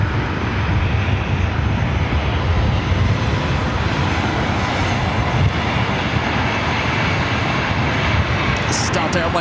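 Boeing 737-900ER airliner engines at LAX airport roar as a steady, loud, broadband jet rush that holds constant throughout without pause.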